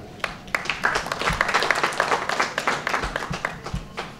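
An audience at a book dedication ceremony on a campus gives a round of applause, with uneven, close claps rising into steady clapping that continues to the end.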